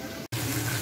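Prawns washed under running tap water; a steady gush of water splashing into a sink, briefly cut off and then flowing again, close and continuous.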